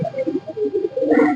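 Andhra pigeons coo close by, a short run of soft, throaty coos rising at the end, with no other sound around them.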